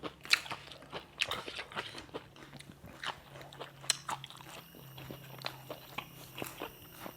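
Close, crisp crunching bites and chewing on raw bitter eggplant dipped in jaew, at a Thai breakfast of pickled pork and herbs, with irregular crunches repeating throughout and no talk.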